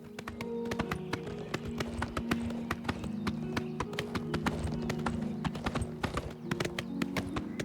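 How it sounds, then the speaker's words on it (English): Horse hooves clip-clop in quick, steady rhythm as a rider travels in the video game Oblivion Remastered, with a fairly close, continuous gait over faint background music and no talk. "Yeah, I kind of like traveling by horse here."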